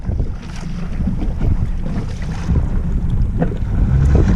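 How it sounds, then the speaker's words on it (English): Wind blows over the sea at Dun Laoghaire in a loud, continuous low rumble with gusty buffeting against the microphone, water washing faintly beneath it. "Here we go, there's a bit of breeze."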